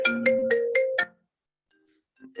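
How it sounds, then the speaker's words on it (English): A phone ringtone plays during a June 2021 online COVID-19 expert discussion, five rapid repeating melodic tone bursts sounding clearly and alone, then cutting off into near silence before a faint voice returns. "my phone is ringing"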